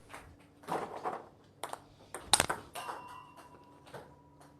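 A single crisp, sharp tap of a table tennis ball striking a paddle's sponge, standing out briefly amid quiet room noise and a faint hum.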